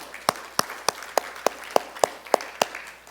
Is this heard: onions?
no